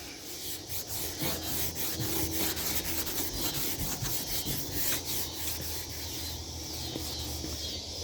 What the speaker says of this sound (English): that's gonna take some work to scrub all that out